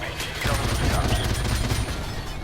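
Sustained gunfire in Call of Duty 4 Remastered, a steady rattling fusillade that starts after a short pause and keeps going loud for a couple of seconds, with a voice faintly underneath.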